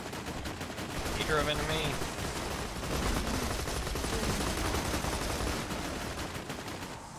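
Rapid gunfire rattles through a Borderlands 2 firefight in dense, sustained bursts, with players talking over the shooting.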